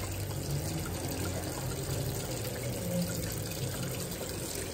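A kitchen tap runs steadily into a sink, a quiet continuous hiss and trickle of water with no talking, kept open to cool the drain while potatoes are strained.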